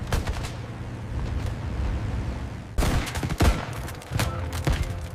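Gunfire aimed at a German aircraft in 1914: bursts of rapid shots over a steady engine-like rumble, with louder, close cracks toward the end.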